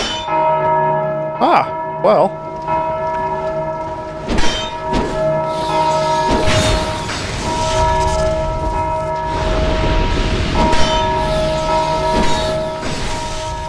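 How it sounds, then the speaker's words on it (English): A church-like bell tolls repeatedly through a sustained, droning ambient scene in the Dark Souls 2 video game, ringing loudly under occasional brief spoken interjections. "We gotta figure out what's causing that bell to ring."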